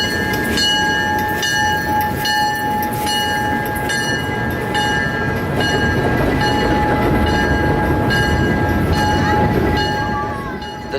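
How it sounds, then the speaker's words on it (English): A train rolls into a station loudly with a steady rumble and rhythmic clacking over the rails, a high whine and a faint horn above it. "people wait on the platform as the train begins to roll in"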